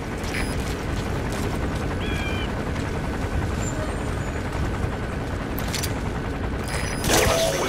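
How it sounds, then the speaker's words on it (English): In the video game Metal Gear Solid V, a patrolling helicopter makes a steady, dense mechanical drone throughout, with faint metallic clanks over it and a louder burst near the end. "the arms dealer's chopper is gonna patrol for the security forces"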